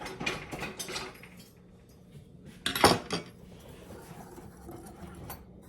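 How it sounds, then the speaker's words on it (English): A big whisk briefly rattles and clinks against a bowl while dry ingredients are mixed for a banana bake, with a sharp burst of metallic scraping in the middle and softer clatter around it. "So we are just going to give them a quick whisk together."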